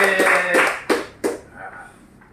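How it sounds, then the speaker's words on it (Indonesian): Applause at a holiday gathering, a few loud hand claps and taps close by, fading quickly into quieter room sound. "Tepuk tangan buat Bung RSSD"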